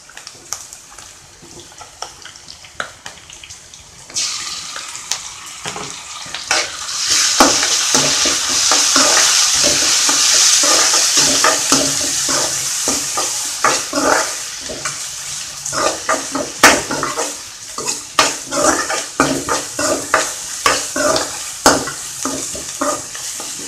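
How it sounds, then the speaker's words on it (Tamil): Ginger garlic paste frying with mutton in a pan for mutton kuzhambu: quiet at first, then a loud steady sizzle with repeated clicks and scrapes of stirring, close by and without talk. "இப்போ இஞ்சி பூண்டு பேஸ்ட் போடுறேன்."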